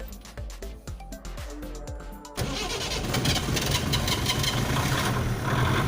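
An Ambassador car's starter motor cranks in a rapid series of pulses for about two seconds. The engine then catches and settles into a steady, rough idle that stays loud and close.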